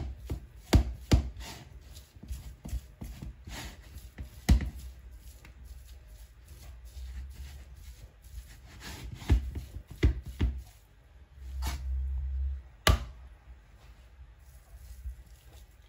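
Homemade shanklish cheese is crumbled by hand into small pieces, making soft, close rubbing and crumbly squishing with occasional sharper taps, quiet and without talk.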